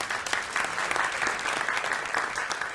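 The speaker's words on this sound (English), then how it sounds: "if anyone deserves a round of applause, it's him" An awards-ceremony audience gives a round of applause, dense and steady, filling the room at even volume from start to finish without any voice over it.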